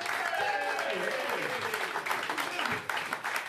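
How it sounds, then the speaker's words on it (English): Applause for comedian Big D Archer at the close of his comedy set, a steady dense clapping that fills the whole stretch with voices mixed in. "Keep that round of applause."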